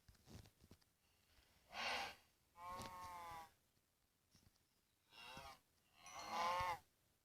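Cattle mooing in a video game, several separate low, drawn-out moos with harmonic tones spaced across the stretch, some closer and louder than others, with no talking over them.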